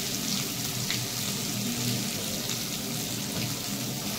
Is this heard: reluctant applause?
no